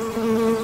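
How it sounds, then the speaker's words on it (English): Steady close buzzing of a bee in the survival video game AREAZ Hardcore Survival, a continuous droning hum with no variation and no talk. "we still have the bee sounds"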